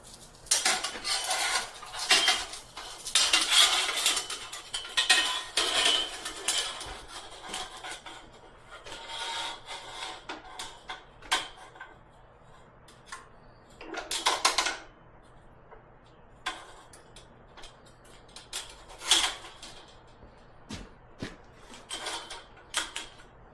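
A heavy-duty sawmill blade sharpener grinds a blade in bursts of harsh, bright, scraping grinding separated by quieter pauses, with clanking metallic handling sounds in between.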